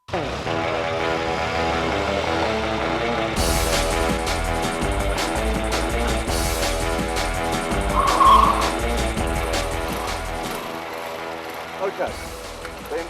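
Honda CG125, a 4-stroke 125cc motorcycle, running with a steady engine drone and harmonic buzz throughout, rising in intensity partway through as the bike is ridden, fairly close and loud.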